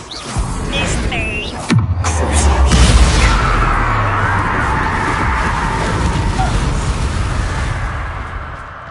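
A Bombarda spell explodes in the Hogwarts Legacy video game, with a loud booming blast that settles into a sustained rumble beneath busy game effects and some voices.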